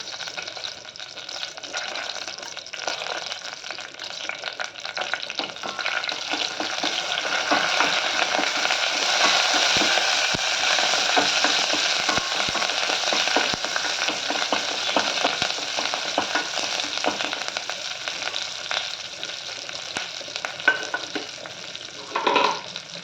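Mustard seeds, cumin, split chana dal and curry leaves frying in hot oil for a ridge gourd curry tempering, a steady loud sizzle with occasional stirring scrapes, continuous and alone without talk.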